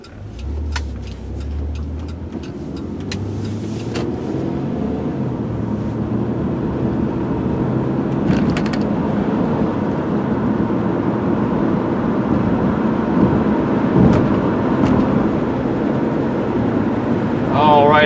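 A 2003 Nissan Maxima GLE accelerating on a test drive. Engine and road noise build steadily from inside the car and rise to a sustained, moderately loud drone with smooth shifts, with no speech.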